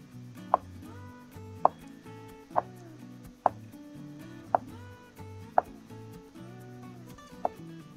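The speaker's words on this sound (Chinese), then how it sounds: "我们先把豆腐一分为二，再切成大薄片。" A knife cuts a block of tofu into large thin slices on a cutting board, giving eight crisp, evenly spaced knocks about once a second, close and clear over a quiet kitchen.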